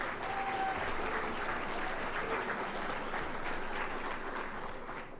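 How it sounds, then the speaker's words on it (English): Audience at the Downtown Boulder Partnership annual awards luncheon breaks into steady applause, a full room of clapping hands that stays even for about five seconds before thinning slightly. "Let's give them all a round of applause"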